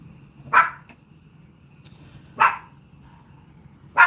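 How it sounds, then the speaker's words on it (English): A dog barks three times, each bark short and sharp, spaced about two seconds apart over a low steady background hum. "If you hear a dog bark"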